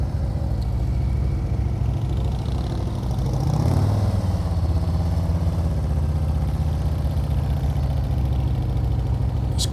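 A motorcycle engine chugs at low speed during slow-speed clutch control practice, a steady mid-level rumble with a brief rise in revs partway through, heard close and alone.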